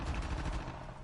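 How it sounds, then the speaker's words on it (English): Heavy gunfire rumbles in the background as a dense, fast run of muffled, fairly faint bursts that keeps going with no clear gaps, and no voices are heard over it. "If people are listening, there's like heavy gunfire right now."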